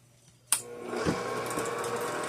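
A kitchen mixer switches on abruptly and keeps up a steady motorized whir as it churns tortilla dough ingredients, including salt, starting from near silence and continuing close and even to the end.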